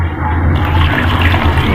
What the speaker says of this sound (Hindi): और 1 लीटर के करीब इसमें हम पानी ऐड कर देंगे।